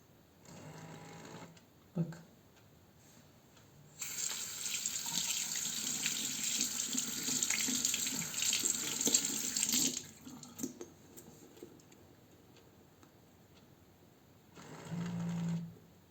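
A Xiaowei automatic liquid soap dispenser runs, its small motor giving a steady whirring hum for several seconds between shorter bursts and quiet pauses.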